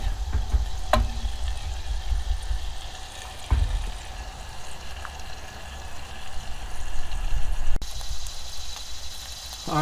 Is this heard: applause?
no